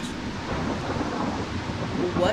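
Sandstorm weather in the video game Gas Station Simulator, a steady roaring wash of wind and grit that holds at an even, fairly loud level throughout with no voices.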